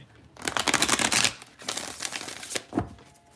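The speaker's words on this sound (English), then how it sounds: "I'm just gonna go ahead and shuffle again." Tarot cards are shuffled in a few rapid riffling bursts, crisp and close, with short pauses between each pass and a final softer flutter.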